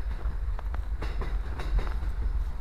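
A train rolls past close by, with a heavy low rumble and irregular clacking wheel thumps over the rails, steady and loud throughout.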